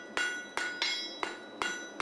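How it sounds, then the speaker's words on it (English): Sharp metallic hammer strikes ring out on an anvil while hand-forging a heavy horse's horseshoe, five blows at an uneven, unhurried pace, each with a bright lingering ring. "he's now forging, drawing the inside branch"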